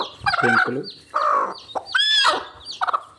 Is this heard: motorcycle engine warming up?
no